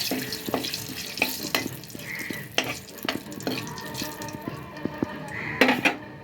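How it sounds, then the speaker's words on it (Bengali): Bay leaf and two dried red chillies crackling in leftover fish-frying oil, a close sizzle broken by sharp knocks and scrapes of a spoon stirring the pan at irregular intervals. "মাছ ভাজার তেলের মধ্যে দেখো তেজপাতা দিয়ে দিলাম আর দিলাম দুটো শুকনো লঙ্কা"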